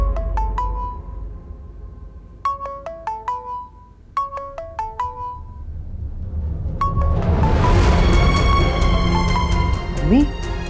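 A mobile phone ringtone rings at home, a bright electronic melody repeating in short bursts, then swelling into a fuller, louder musical passage near the end.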